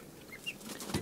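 Chickens squawk and cluck inside a coop, a short burst of faint, close calls with wing rustling.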